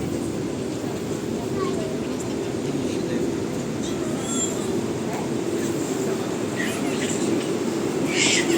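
A metro train at Valencia airport runs steadily with a low rumbling drone and occasional faint squeals, heard from inside at moderate loudness while people talk in the background.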